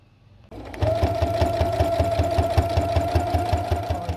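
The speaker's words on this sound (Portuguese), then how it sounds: "E nós vamos passar uma costura reta" Sewing machine stitching a straight seam on a plastic vaccination card cover: after a short quiet start the motor spins up into a fast, even, rhythmic chatter of needle strokes that runs steadily to the end, close and loud.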